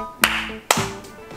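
Two sharp, close hand claps sound about half a second apart, with a fainter third clap trailing at the end.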